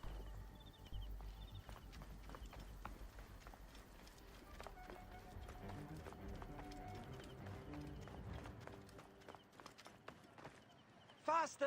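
Horse hooves galloping in Assassin's Creed Origins, a steady clip-clop rhythm running through most of the stretch under game music and ambience, with people talking over it.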